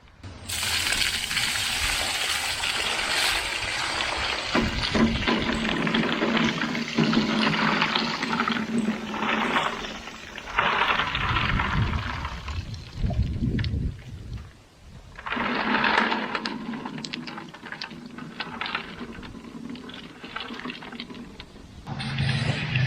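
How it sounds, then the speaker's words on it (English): Water pours and splashes continuously through a strainer from washed black walnuts, a steady rushing drain with a few surging bursts, close by and without speech. "Water's all draining out of them."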